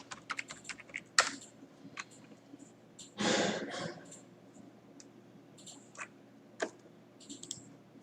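Someone types a password on a computer keyboard: quiet, scattered key clicks spread unevenly over several seconds, with one short, louder rustling burst near the middle.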